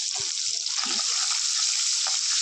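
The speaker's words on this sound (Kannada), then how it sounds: "ಈರುಳ್ಳಿ ಉದ್ದದ ಹೆಚ್ಚಿದ್ದೀನಿ ಇದನ್ನು ಹಾಕೊಳ್ಳೋಣ ಚೆನ್ನಾಗಿ ಫ್ರೈ ಆಗಲಿ" Sliced onions frying in oil in a pan, giving a steady broadband sizzle with a few soft stirring knocks near the start.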